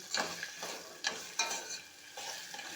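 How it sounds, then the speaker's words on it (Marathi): Mango pieces sizzle and fry in a hot oil tempering, with a few sharper stirring scrapes against the pan breaking through the steady crackle. "आपले आंब्यांचीही फोड तरी थोडं छान आपण परतून घ्यायचे फोडणीमध्ये"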